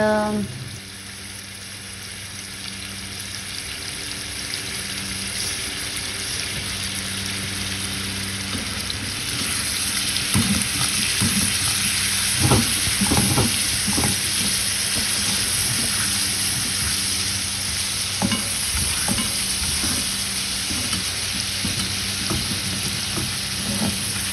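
Small lamb pieces sizzling and frying in a karahi for Afghani charsi karahi, a loud continuous crackling hiss with occasional stirring scrapes and clinks throughout.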